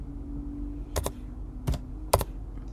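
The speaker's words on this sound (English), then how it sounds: "you can type in the server IP address" Keys clicked on a computer keyboard while entering a server IP address in Linux Mint network settings, three short bursts of quick clicks over a faint steady hum, close and without talking.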